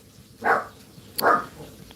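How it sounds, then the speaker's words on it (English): A dog indoors during a crocheting session gives two separate nearby barks, roughly a second apart, with a quiet room in between. "Crazy dog."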